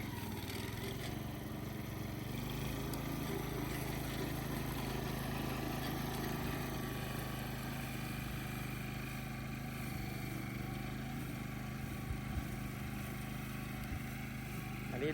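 A used Japanese walk-behind lawn mower with a 60 cm cutting width and single forward self-propelled gear runs steadily up close, its small engine droning continuously and evenly throughout.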